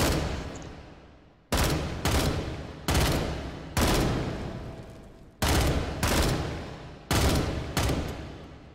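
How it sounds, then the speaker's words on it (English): Loud full-auto gunfire from a rifle in the VR shooter H3VR, fired in six or seven sharp bursts of rapid shots separated by brief pauses, close and alone with no talk. "So this gun's got single fire mode, like so, or three shot, or full auto."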